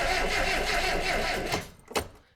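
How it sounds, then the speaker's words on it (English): A Reliant Robin MK2, unused for ten years, has its engine cranked over: a loud, steady mechanical churn of the starter that dies away, followed by a brief clunk as it stops. "So we know the engine turns."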